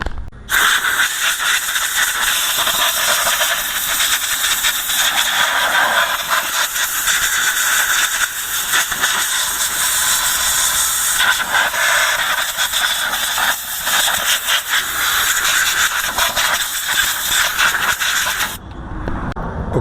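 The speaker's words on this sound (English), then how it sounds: "let me get the air hose. I'm going to blow this out, clean it all up" Compressed air hose blasting out the brake assembly of a Dodge Ram Van B2500 wagon, a loud steady hiss that runs unbroken for nearly the whole stretch before cutting off abruptly near the end.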